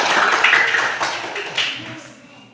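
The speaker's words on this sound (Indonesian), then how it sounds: "Tepuk tangan untuk kelompok C." A classroom of students claps briefly for a group that has just presented, a short burst of mixed taps with voices talking over it, fading within a couple of seconds.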